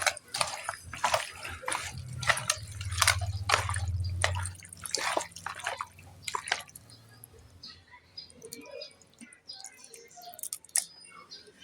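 Water splashes and dribbles into a cooking pot of beef in quick bursts, close up, followed by quieter drips and small clinks.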